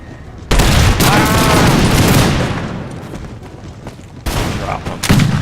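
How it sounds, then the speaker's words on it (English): Bursts of video game gunfire from enemy soldiers in Austria DMUC, loud and dense, with a heavy volley that rolls on and fades, then fresh sharp shots near the end. "They're just gonna kind of casually stroll up, start shooting us."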